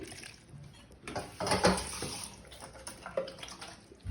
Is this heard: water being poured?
yes